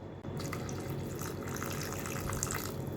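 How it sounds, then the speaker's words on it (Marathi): Water streams steadily into a pot of Malvani-style fish curry for a few seconds, a continuous close splashing pour with no talking. "थोडंसं पाणी ॲड करूया"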